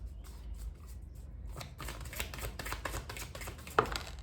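Tarot cards are shuffled by hand in a quick run of crisp riffling flicks, quiet at first and then more rapid and dense, close up with no talking.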